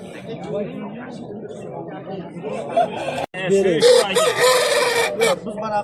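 A rooster crows loudly amid a busy crowd of voices and clucking fowl at a bazaar in Shahrikhan, Andijan, the call rising strong in the second half.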